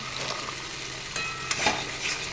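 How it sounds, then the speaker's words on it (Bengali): Green peas frying with spices in a wok for a vegetarian mixed-vegetable dish, a steady close sizzle broken by a few scraping stirs of the utensil. "একটু মশলার সাথে কড়াইশুটিটা একটু মেরে নেব"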